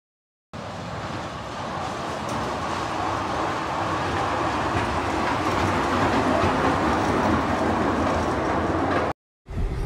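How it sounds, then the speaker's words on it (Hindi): A passenger train running, heard from on board as a loud, steady roar of wheels and rushing air that fills the whole clip and cuts off briefly near the end. "ट्रेन चल रही है"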